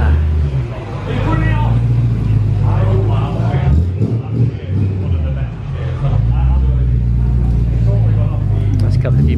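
A performance car running on a dyno at a motorsport dyno day featuring VAG and BMW M Performance cars: a loud, steady engine drone with low rumbling tones, with people talking nearby throughout.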